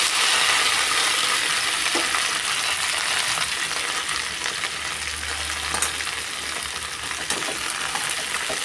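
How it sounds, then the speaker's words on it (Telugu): Okra frying in hot oil in a pan gives off a loud, continuous, crackling sizzle, heard close up with occasional light scraping from stirring. "బాగా వేయించుకోవాలి."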